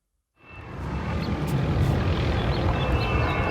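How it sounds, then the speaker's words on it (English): A police helicopter patrols over a California beach; after a moment of silence its rotor and engine roar swells in and holds steady and loud overhead. "there were helicopters patrolling the beach, ordering people to go inside"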